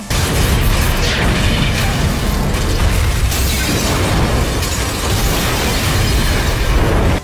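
Gasoline set alight by a lighter explodes in a film thriller scene, a dense, loud, sustained roar of rumbling blast noise lasting several seconds with no speech.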